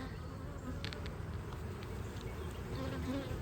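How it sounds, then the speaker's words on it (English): A dense, steady buzz of many honey bees swarming close by around hive boxes, constant and unbroken, with a few louder individual bees passing near. "Look at all the bees back here where I've got the boxes offset a little bit."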